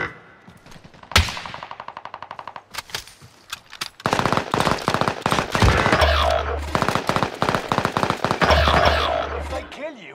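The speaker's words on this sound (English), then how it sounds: "Taking heavy fire." Gunfire in the video game Champion of Caldera: scattered shots, then a long loud burst of rapid automatic fire with deep rumbling impacts, heavy and close, with a voice speaking briefly amid it.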